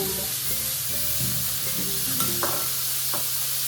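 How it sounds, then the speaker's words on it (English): Beans stirred into a hot skillet with heated quinoa, a steady loud sizzle of frying filling the background while a utensil scrapes and shifts the food in a few short strokes. "Now we're gonna stir in our beans."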